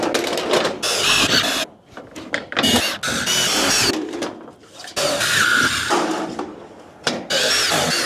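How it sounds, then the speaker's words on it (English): A power drill driving screws into tin roof sheets on a playhouse, several loud whining bursts with short pauses between them, close by, with a metallic rattle and no talking. "So line it up with your front and sink your screws."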